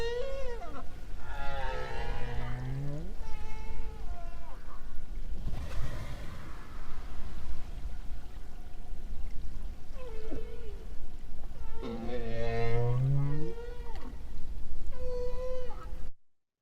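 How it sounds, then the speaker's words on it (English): North Atlantic right whales give low tonal calls, two clear rising and falling moans several seconds apart over a steady underwater rumble. "right whales produce a variety of tonal low frequency calls"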